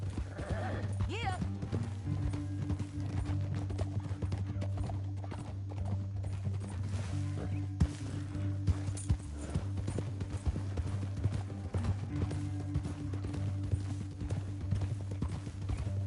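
Horse hooves clop steadily in the Red Dead Redemption video game, a continuous galloping rhythm over a low droning background, fairly faint and even throughout.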